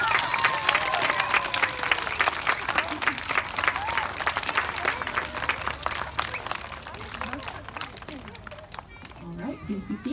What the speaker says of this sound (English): please give our Students of the Month for March a big round of applause.